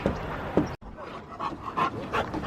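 Dogs at an open dog park near Balboa Park pant and give small whimpers and yips, close by and moderately loud, with a brief dropout partway through.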